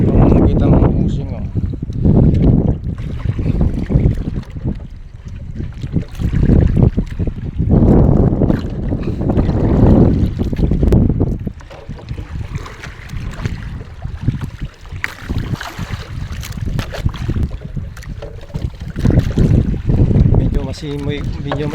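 Breezy wind and choppy waves slap and wash around a small boat at sea, rising and falling in uneven surges with wind buffeting the microphone while a person talks throughout.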